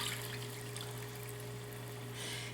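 Chicken broth pours steadily into a pot for a braised pot roast, a continuous close liquid splash and trickle lasting a couple of seconds over a low steady hum.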